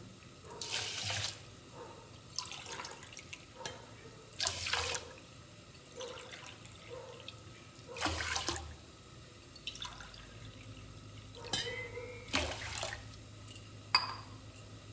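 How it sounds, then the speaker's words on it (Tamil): Water pours into a pot of washed rice in several short bursts with gentle splashing, separated by quiet pauses, close by and fairly soft. "இப்போ இதுக்கு 4 டம்ளர் தண்ணி விட்டுக்கலாம்"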